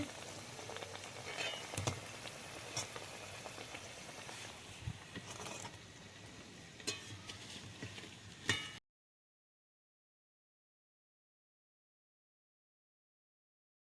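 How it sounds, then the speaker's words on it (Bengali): Snacks deep-fry in hot oil until reddish and crisp, giving a steady sizzling hiss with scattered pops and crackles. The sound cuts off abruptly partway through. "আর একটু লাল লাল করে ভাজতে হবে বন্ধুরা"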